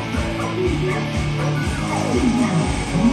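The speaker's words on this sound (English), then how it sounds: "on the right-hand side are all the pets, all the dogs, owned by the staff" Staff dogs at the Weta Workshop in Auckland bark, yip and whimper in an indoor space, several voices overlapping at moderate distance in a continuous busy din.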